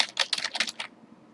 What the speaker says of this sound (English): Now you must type some random characters for your key file to be generated properly.